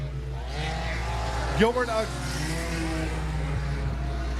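Sport compact race cars lap the oval at Raceway Park (Interstate Speedway), their engines droning steadily in the background under an announcer's commentary.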